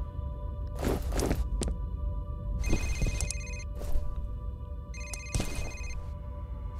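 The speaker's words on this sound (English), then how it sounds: "I don't see where the phone is." Telephone ringing inside the video game FEAR, repeated electronic ring bursts in several short clusters over a steady low background hum, with occasional footstep thuds in between.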